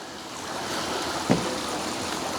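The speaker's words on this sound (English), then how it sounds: "I guess the waterfall is just kind of like right over there" Small waterfall in a cove at an Alabama campground, a steady wash of falling water heard from a distance with a soft wind-like hiss and one brief splash.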